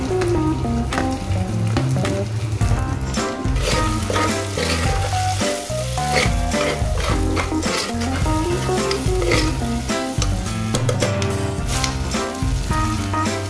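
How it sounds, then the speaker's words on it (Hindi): Finely chopped onion and green chili fry in a pressure cooker with loud, continuous close sizzling, stirred now and then with a spoon scraping and clinking against the metal. "अभी इसमें हम प्याज डालेंगे बारीक कटा हुआ, और हरी मिर्च वो भी डाल देंगे।"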